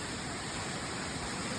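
A mountain waterfall in northwest China pours over rocks, making a steady, even roar of broadband rushing water with no breaks and no voices.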